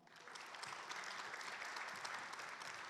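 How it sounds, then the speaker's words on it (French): Steady applause from a conference audience at a French real estate investment event, fairly distant and even throughout with no talking. "Merci de l'applaudir également"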